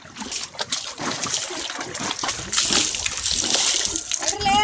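Water is poured and splashed close by in bursts that grow steadier and louder, with people talking over it.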